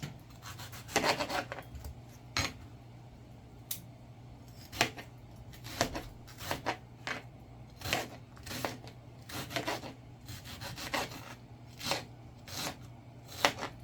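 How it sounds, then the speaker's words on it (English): A knife chops an onion on a board in a series of irregular, close, crisp strikes with short rubbing scrapes between them. "And I'll chop up the onion and add it"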